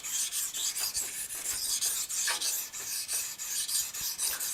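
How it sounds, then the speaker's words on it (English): A knife blade is scratched back and forth against an abrasive during convex sharpening, working above the cutting bevel to build a scratch pattern; a steady, close rasping rhythm of repeated strokes, with no voices. "I'm taking this right here and I'm scratching all this portion of the blade."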